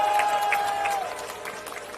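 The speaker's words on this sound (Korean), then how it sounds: "여러분, 힘찬 박수 부탁드립니다." Brief applause at a Democratic Party election campaign launch rally, a short burst of clapping under a steady electronic tone, fading within two seconds.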